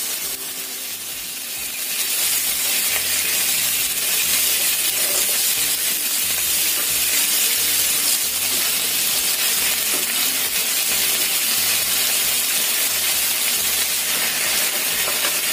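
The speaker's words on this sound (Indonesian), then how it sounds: "Kita panggang sebelah di sini." Meat grilling in a pan, with a constant loud sizzle and hiss of frying over low heat. The sound runs steadily throughout, with no speech.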